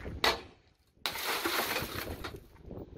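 Tempered car side window glass breaks into chunks: a sharp impact crack, then a loud burst of crunching, tinkling glass that spills and trickles off over a couple of seconds, close up and without talking.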